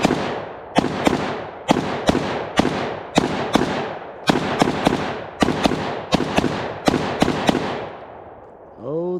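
A Mark 18 rifle fitted with a pistol arm brace fires a rapid string of about fourteen loud, sharp shots in quick bursts, each with a booming outdoor echo, ending in a faint trailing sound.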